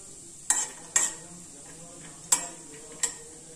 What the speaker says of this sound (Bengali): অল্প একটু তেল দিলাম, বাদামটা একটু ভেজে নেব।